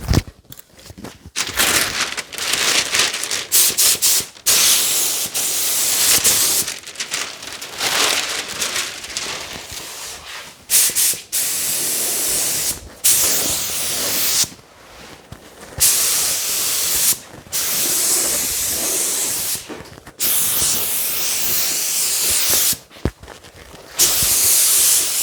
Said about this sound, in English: We'll test this gun, make sure she's flowing out and shooting right.